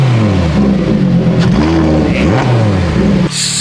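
A V10 car engine revs loudly and close up, with the pitch climbing and falling in repeated throttle blips, then cuts off abruptly near the end.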